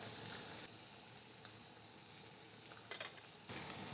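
Lobster pieces sizzle steadily in a hot pan for lobster tacos, a continuous broadband frying hiss that holds even and close throughout, swelling briefly louder near the end.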